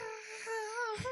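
A short, high, wavering whine made by a human voice imitating the eerie squeal of a pocket sneakoscope from Harry Potter, with a brief low bump at the end.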